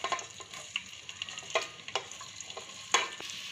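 Onions sizzle in hot oil in a pan as a lobiya qeema is cooked, with a steady crackle and scattered louder pops and stirring scrapes, close and moderately loud, no voices.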